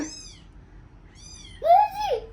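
A cat meows twice in short, high calls, then gives a louder, longer, falling meow close by, with no talk over it.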